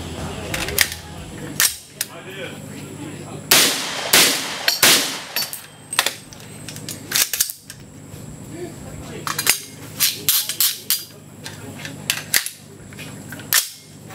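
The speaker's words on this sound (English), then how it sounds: "we're going to fire three rounds unsuppressed, put a silencer on, fire three rounds suppressed" A rifle fires three rounds unsuppressed, then three more with a silencer fitted: sharp, close cracks with pauses between, followed by further shots, with some talking in between.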